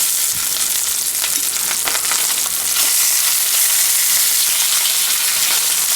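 Steady, crackling sizzle of salmon frying in a hot pan, continuous and close, with no talking.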